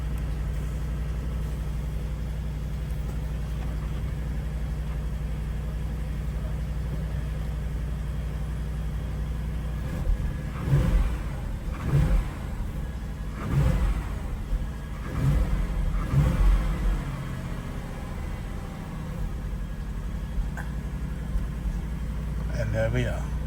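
2022 Porsche Cayenne Turbo idling steadily with a deep, constant drone, then revved several times in Sport and Sport Plus mode, a string of short, moderately loud bursts midway before it settles back to idle. Someone talks at times.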